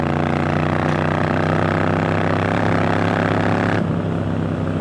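A Triumph Scrambler 900 motorcycle engine idles close by with a steady, loud, even rumble for about five seconds, its tone shifting slightly near the end.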